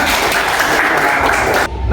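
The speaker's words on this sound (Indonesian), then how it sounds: "Tepuk tangan semuanya." Classroom of students clapping together during an Islamic studies lesson, a dense steady patter of hands that stops abruptly near the end.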